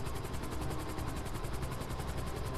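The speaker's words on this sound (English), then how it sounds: "Oh, I can rotate the chopper by pressing R1." A helicopter in the video game GTA V gives a steady, loud rotor whir with rapid regular chopping pulses, continuous and with no talk.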